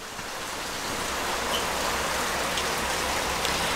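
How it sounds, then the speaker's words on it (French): Heavy rain pours down in a dense, steady, loud hiss that fills the whole moment without letup. "Je sais pas si vous entendez, mais il pleut vraiment beaucoup."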